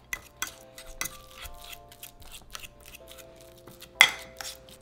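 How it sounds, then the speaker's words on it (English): Avocado being smashed with a utensil in a bowl for guacamole, giving a run of soft repeated scraping and clinking strokes against the bowl, with one sharper louder knock near the end. "Smash the avocado."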